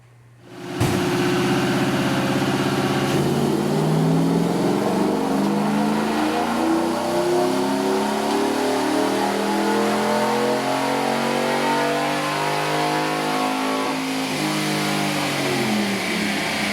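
A Chevrolet Silverado engine with a new camshaft, headers, cold air intake and tune roars loud and close on a dyno, climbing steadily in pitch through a long sustained wide-open pull after a short quiet start.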